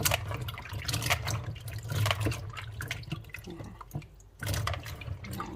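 Tap water runs steadily into a sink while freshly picked cherries are washed, a close, continuous splashing with small drips and shifts in the flow.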